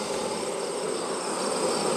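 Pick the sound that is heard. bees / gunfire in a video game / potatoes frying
bees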